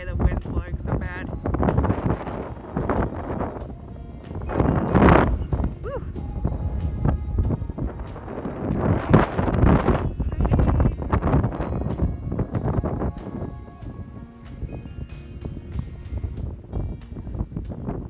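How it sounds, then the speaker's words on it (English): Strong wind buffets the microphone on Mt. Hashikami, a steady loud roar with gusts, while a person speaks intermittently over it. "The wind's blowing so bad."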